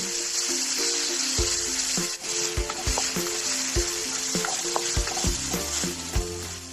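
Tomatoes sautéing in a pan with squash and chayote, a steady loud sizzle with stirring clatter and scraping spoon knocks throughout.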